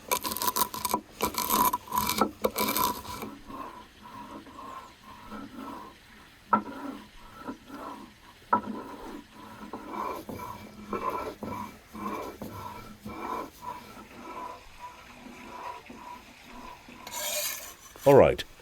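Red and white peppercorns are ground for seasoning beef sausages, with rough rasping and rubbing strokes in irregular bursts, loudest at the start and near the end, close by and with no talk.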